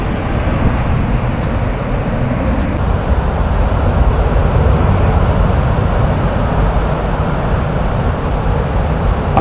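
High-pressure volcanic gases roar continuously from a stadium-sized crater in Indonesia, a loud, steady jet-engine-like rush that fills the whole clip without letup.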